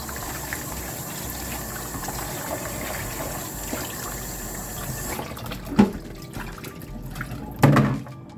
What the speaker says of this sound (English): I'm going to wash it like so.